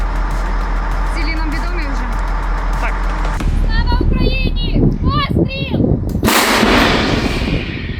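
A Ukrainian Bohdana self-propelled howitzer blast booms out loudly near the end, preceded by engine noise, children's voices and other speech in the background.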